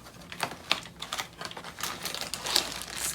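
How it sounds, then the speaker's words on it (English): Plastic packaging of fudge-covered Oreos being cut open: rapid crinkling and snipping clicks, close to the microphone and fairly quiet, coming in uneven bursts for about three seconds. "Let's cut the plastic"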